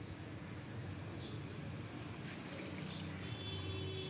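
Water poured into a pressure cooker holding tarka dal, a steady, faint gush of liquid that runs on with no break.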